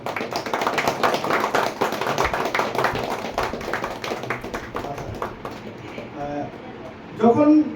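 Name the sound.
loud applause for best student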